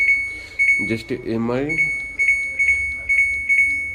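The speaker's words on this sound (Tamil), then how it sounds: "பீப் சவுண்ட் மட்டும் தான் வரும். பட் எந்த ஒரு பம்ப்ஷனுமே நடக்காது." Samsung 13-button top load washing machine with a faulty start button beeping when start is pressed: a steady high electronic tone with repeated short beeps, while someone talks over it.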